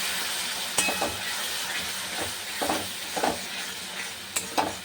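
Spices sautéed with dried chili powder and a splash of water in a pan, a steady bubbling sizzle with scattered spoon scrapes and taps spread irregularly throughout.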